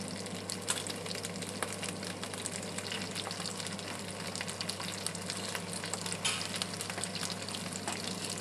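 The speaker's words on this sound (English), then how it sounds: "put about a tablespoon of butter in there" About a tablespoon of butter sizzling in a hot pan with crispy-skinned snapper, a steady close crackle and spatter with light scraping and basting noises, under a constant low kitchen hum.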